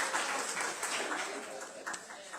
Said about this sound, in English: you can clap for me now